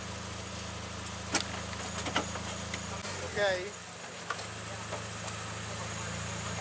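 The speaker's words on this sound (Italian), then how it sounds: "stanno trafficando nel motore, vediamo se riparte" A rally car engine at the 27th Rally del Rubinetto 2020, being worked on after a repair, gives a low, steady idling hum that shifts partway through, with people talking nearby.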